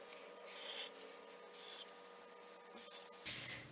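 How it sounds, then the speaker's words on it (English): Pencil or pen drawing four straight freehand lines on paper, soft scratchy strokes in short separate passes, faint and close, with a slight hum underneath. "I'll just freehand it and draw 4 lines through this dot."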